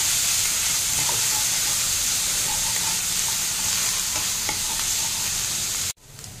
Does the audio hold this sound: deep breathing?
no